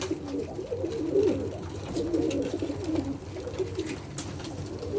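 Blue pied tumbler pigeon cooing close by in repeated soft throaty phrases over a steady low background hum.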